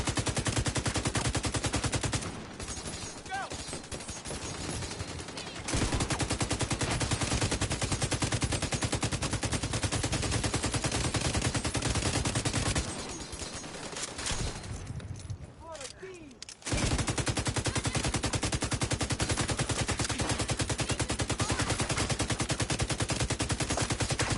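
Sustained automatic gunfire in The Division 2, dense and loud, rattling almost continuously with two short lulls where the shooting thins out, voices calling out among the shots.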